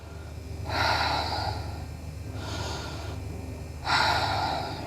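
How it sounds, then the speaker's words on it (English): Deep, slow breaths during a beginner hatha yoga session, three long audible inhale-exhale swells close to the microphone with quiet gaps between them. "Breathe in here again."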